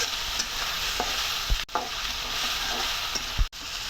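Taro leaves cooking with garam masala in a pan, a continuous loud sizzle with a few stirring scrapes and two sharp knocks against the pan, no voices.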